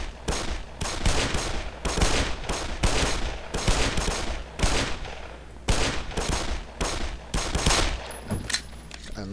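Rapid bursts of gunfire from a video game set in the Black Mesa research facility, repeating in dense volleys of shots throughout, loud and close, with occasional voices in the background.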